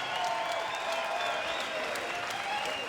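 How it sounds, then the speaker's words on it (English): Sustained applause from a crowd at a bare-knuckle fighting event, steady and fairly loud across the whole stretch, mixed with scattered cheering voices and no clear pauses. "let's have a round of applause for these 2 warriors"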